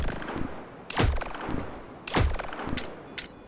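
Two loud, booming sniper rifle shots from the auger in the game The Signal From Tolva, each a sharp crack followed by a rolling echo that decays over about a second, with faint metallic clicks in between.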